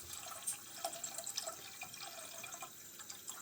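Water poured into a cooking pot for Moroccan barley soup, a faint, steady trickle with light splashing and dripping.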